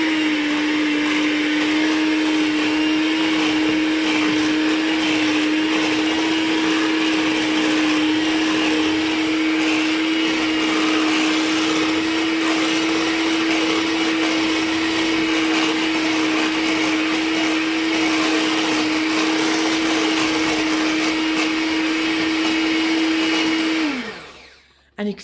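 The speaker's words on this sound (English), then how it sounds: "so then you get your whisk, your electric whisk." An electric whisk beats sugar with wet cake ingredients for a courgette chocolate chip cake, a loud steady motor whine running continuously for over twenty seconds before abruptly spinning down and stopping.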